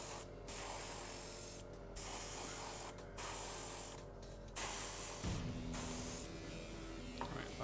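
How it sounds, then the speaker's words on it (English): Spray paint can hissing in several bursts of roughly a second each with short pauses between, applied to a Warglaive miniature, over a steady low hum from nearby equipment. "Alright, last bit of spray."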